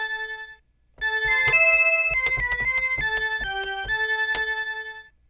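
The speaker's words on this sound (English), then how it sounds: "Organ." Organ voice on a cat-face toy keyboard, a sequence of about ten sustained electronic notes with bright harmonics, played alone at moderate loudness after a short pause.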